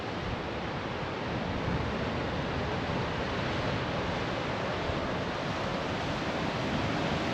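Ocean waves wash continuously against a rugged Japanese coastline, a steady broadband roar of surf mixed with wind, heard from a high vantage point with no voices.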